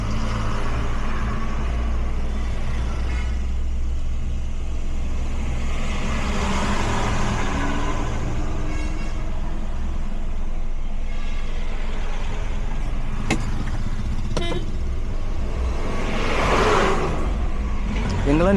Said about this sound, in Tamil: இங்கே பாருங்கள் எவ்வளோ பக்கத்துலேருந்து வண்டி வந்து திரும்பி போகுதுன்னு